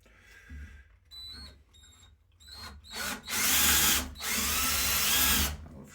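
A power drill bores a 3.5 mm hole through a CNC plate, starting with short bursts and then running in two loud, sustained stretches with a brief pause between them.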